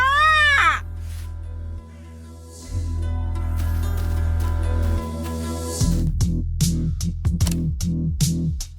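Crow-like caws from a bird in the video game Yaga, a short burst of harsh rising calls at the start and then a run of quick rhythmic calls near the end, all over steady droning game music.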